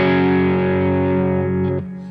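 A guitar runs through a Jam Pedals vibe pedal set to shallower depth, sounding as a sustained, distorted chord with gentle modulation that fades out near the end.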